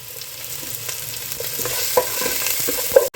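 Shallots, green chilies and curry leaves sizzle steadily in a hot pan for a Kerala dried fish curry, with a spoon scraping and stirring through the gentle frying hiss and no talking.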